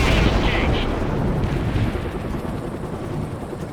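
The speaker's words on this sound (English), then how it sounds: "Heavy gunship ready for combat." A heavy attack helicopter gunship in the World in Conflict video game rumbles continuously, with dense low roaring and a few bright bursts early on, under faint radio chatter.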